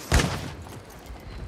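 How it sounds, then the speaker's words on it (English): Gunfire aimed at the player in a video game: one sharp, loud burst at the start, then a fading rumble and quiet background. "Fucking shooting me"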